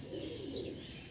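Silver Sialkoti roof pigeon cooing softly, a short low burbling coo heard close and quiet.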